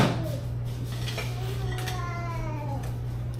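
A silicone spatula and other utensils clink and knock against dishes while cinnamon dough is being rolled, a couple of close clatters over a steady background hum.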